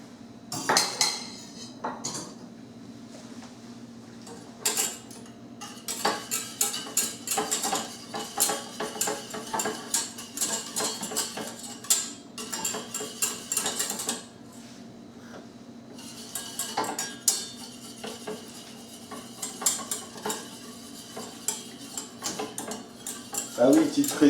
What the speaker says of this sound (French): pendant que je fais fondre le beurre dans ma casserole